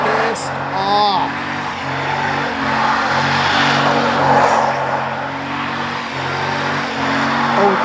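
A car does a burnout at a Mopar burnout contest, its engine held on the rev limiter in a loud, steady drone while the tires screech; people talk and shout over it.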